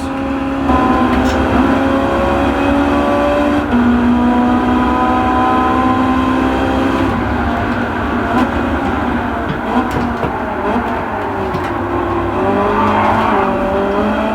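Engine drone and tire noise from a car in a racing video game, played with a Thrustmaster T300 RS wheel, holding steady and loud, with pitch shifts and a squealing skid near the end.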